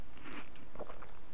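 Crunchy biting and chewing of food in The Long Dark survival game, a few close crackling bites with faint background ambience and no talk.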